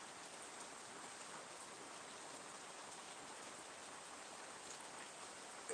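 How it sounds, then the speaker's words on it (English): Heavy rain pours steadily outdoors, a dense, even hiss of drops on surfaces that holds at a constant level throughout with no voices. "Can you guys hear how heavy it's raining right now?"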